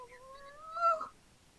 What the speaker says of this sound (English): kitten sounds in the background